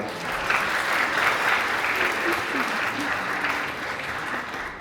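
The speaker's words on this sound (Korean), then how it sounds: "큰 박수 부탁드립니다." Wedding guests applauding the groom as he comes forward to sing, a dense, even wash of clapping from a large crowd sustained for several seconds.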